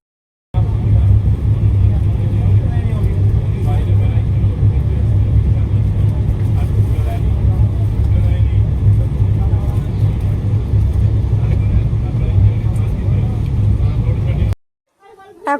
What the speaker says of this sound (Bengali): ট্রেনে উঠে পড়েছি, আর দেখতেই পাচ্ছ ট্রেন ছেড়েও দিয়েছে আমাদের